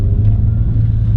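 A Ford Focus ST fitted with a GReddy catback exhaust cruising on the road at light throttle, giving a mild, steady low drone and rumble with no revving.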